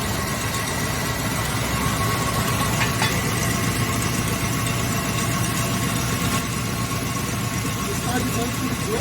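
AMC Matador engine idling roughly, a steady low rumble close by with a hint of knock, while people talk over it.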